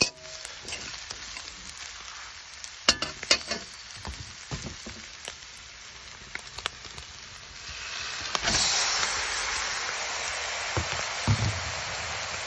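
Meat with chopped ginger sautés in a pan for an Ilocano dish, with scattered clicks and taps of utensils first, then a steady loud sizzle rising as the meat goes in.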